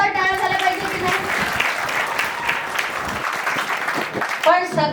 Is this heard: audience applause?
yes